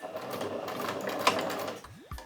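A sewing machine stitches a shirt sleeve in a fast steady whirring run, then slows and stops with a short mechanical sweep at the end.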